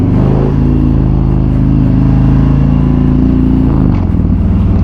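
A 2017 Harley-Davidson Street Glide 107ci with slip-on exhausts accelerates in a loud, continuous deep engine rumble, with a brief throttle change near the end.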